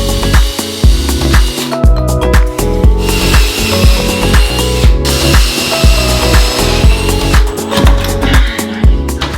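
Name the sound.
drill driving in a screw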